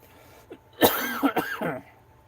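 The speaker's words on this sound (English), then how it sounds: "Sorry about the coughing." One person coughs and clears their throat indoors in a few short, rasping bursts over about a second, fairly close and otherwise quiet.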